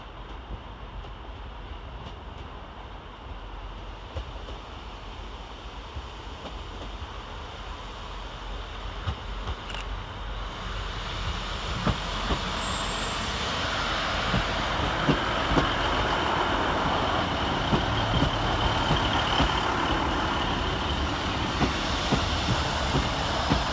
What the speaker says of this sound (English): Next arriving into the station is 150-109 and 156-452 with the 1435 Northern service from Rochdale to Clitheroe